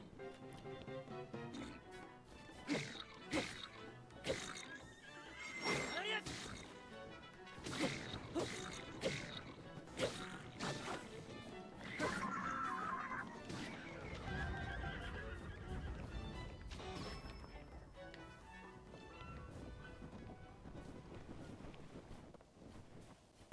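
A horse in The Legend of Zelda: Tears of the Kingdom whinnies loudly several times over rhythmic clip-clopping hooves, with wind noise in the background and no talking.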